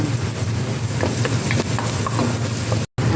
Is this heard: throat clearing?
no